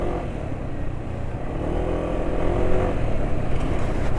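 A motorcycle engine running on freshly changed Yamalube RS4GP oil revs steadily, a dense close mechanical roar that swells slightly toward the end, with no talking.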